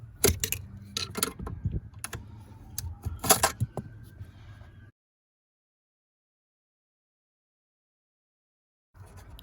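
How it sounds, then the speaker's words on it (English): A new plastic brake light switch mount snapped into place: a cluster of sharp close plastic clicks and taps over a few seconds, then silence before a brief return of faint handling noise. "So here I'm just snapping in the new plastic mount that the new brake light switch will fit into."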